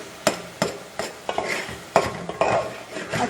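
Lauki halwa with khoya is stirred and roasted in a pan, with repeated scraping strokes of a spoon against the metal in an uneven rhythm over a soft sizzle, close up and with no talking.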